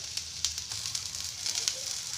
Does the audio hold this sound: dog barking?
no